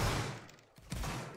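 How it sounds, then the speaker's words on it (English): A musket volley fires in a multiplayer video game, sounding as a loud, dense crash of many shots at once that fades briefly before a second heavy burst rings out. "Aim 45 degrees up in the air. And fire."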